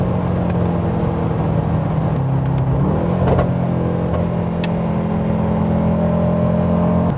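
A Mercedes-AMG GT63S with 639 horsepower accelerates hard under full throttle, a loud, steady low engine drone from inside the cabin that climbs in pitch as speed builds, with no talk.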